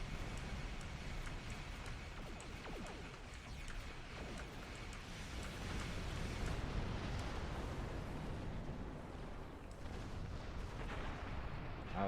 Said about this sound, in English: Firing proton torpedoes.